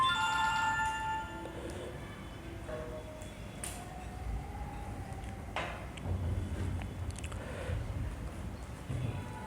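A mobile phone ringtone plays softly at the start of a devotional talk, a melodic electronic ring fading over a steady low background hum, with sparse clicks and no clear speech.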